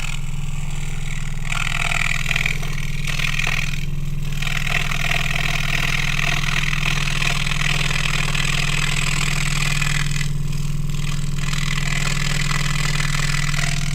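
A scroll saw cutting light plywood along a black line, a loud continuous motor hum with a steady low drone and buzzing blade chatter that rises and falls slightly as the cut progresses, heard alone and up close.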